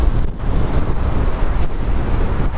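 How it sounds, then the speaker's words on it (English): Strong wind roars across the microphone on an outdoor country road, a steady loud rumbling buffet with gusty surges and no speech. "It's windy"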